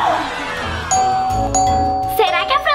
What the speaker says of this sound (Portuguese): Opa, eu ouvi a campainha.